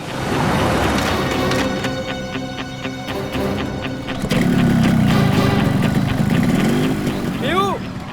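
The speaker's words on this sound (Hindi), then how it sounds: "बाइक स्टार्ट हो गई, जल्दी आओ।" A motorcycle engine idles in a steady, rough drone that runs through the whole scene, with people talking over it and background music.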